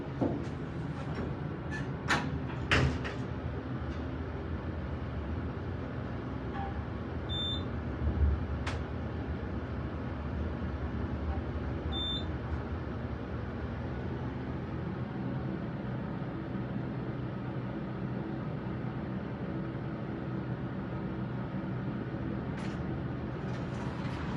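Modded Dover hydraulic elevator in Highland Park, IL, with its door sliding open and the car running: a steady low mechanical hum and rumble throughout, with a few short clicks early on and two faint high electronic tones.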